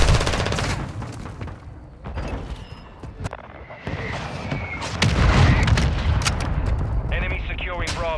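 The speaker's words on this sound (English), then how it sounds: "Hostile mortar strike incoming." Mortar strike in Call of Duty: Modern Warfare II: heavy booming blasts and rattling gunfire roll through a dense, loud battle mix, with voices heard over the din.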